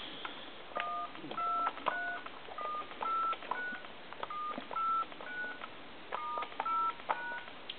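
A Telemania Lamborghini car telephone under repair sends a long run of DTMF dialing tones, short crisp paired beeps in quick groups with brief pauses, clear and close over a faint background hiss.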